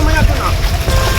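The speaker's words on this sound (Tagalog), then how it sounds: "Ito yung ating bangka" A wooden fishing boat out at sea on a net-fishing trip, with loud low rumbling of motor and water close by as someone speaks over it.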